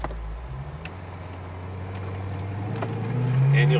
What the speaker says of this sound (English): And so I'm just going to ease on the gas.